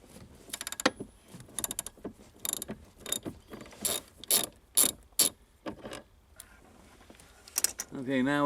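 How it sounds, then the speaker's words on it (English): Ratchet wrench loosening a steering column bolt at the universal joint on a 2002 Jeep Grand Cherokee, rapid close clicking bursts repeating in short runs with pauses, while someone talks over part of it. "Now we got to take this bolt out down here that's holding that onto the universal."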